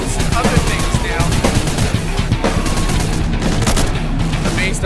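Dense bursts of rifle fire and heavier gunfire crack repeatedly in a zombie survival video game battle at a navy base, rapid overlapping shots with booms, loud and continuous throughout.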